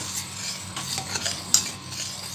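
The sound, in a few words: stirring thickening milk in a hot kadhai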